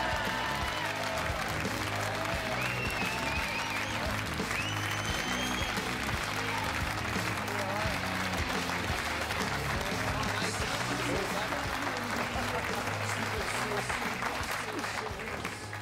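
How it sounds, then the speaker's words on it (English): A rugby league television show's studio audience, South Sydney supporters, applauding and cheering for a player's entrance; sustained loud clapping with crowd voices runs throughout, steady and close. "stand up and cheer, you South supporters, for the one and only David Taylor"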